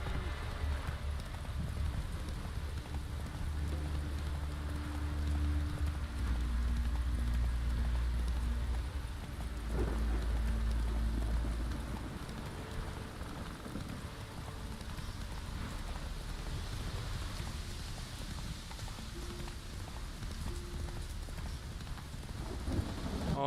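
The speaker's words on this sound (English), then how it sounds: "Almost there, Roach, you can do it." A horse gallops in The Witcher 3, steady hoofbeats drumming beneath a constant rain-like hiss of game ambience.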